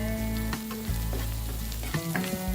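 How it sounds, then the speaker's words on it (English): Chilli, fish curry and turmeric powders fry with onions in a pan for canned sardine varuval, a close, steady sizzle broken by a few stirring scrapes. "Let's fry this powder for a minute."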